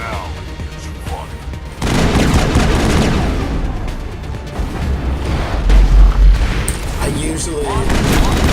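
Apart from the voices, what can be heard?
gunfire in the video game Mass Effect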